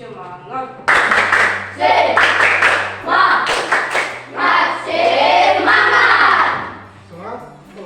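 A school class claps a rhythmic spirit clap in unison, sharp bursts of hand claps in a patterned beat, mixed with loud group chanting and shouting in a room.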